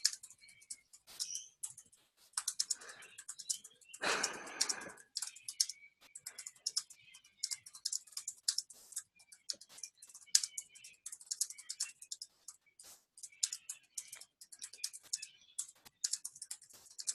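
Steady typing on a computer keyboard, quick light clicks in irregular bursts, faint and close, with a brief louder rustle early on and no talk.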